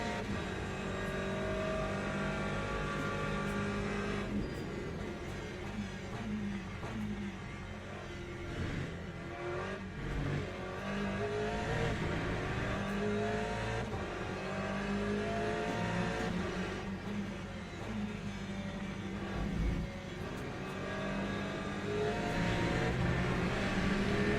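Hypercars race around Monza in wet conditions in the Le Mans Ultimate sim, with engine notes rising and falling through gear changes and a continuous high-revving drone and passing whine, with no talking.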